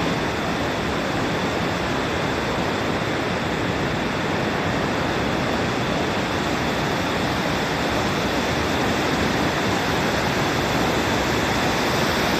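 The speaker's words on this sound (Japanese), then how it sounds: "ここはなんか滝っぽくなってますね。" Waterfall inside the Akiyoshido limestone cave in Yamaguchi, Japan, a loud, continuous roaring rush of water that stays steady throughout, with no talking.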